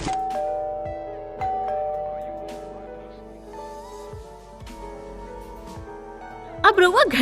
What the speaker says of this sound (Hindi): अब रउआ घंटी के भी आवाज सुनाई नहीं खे देत का?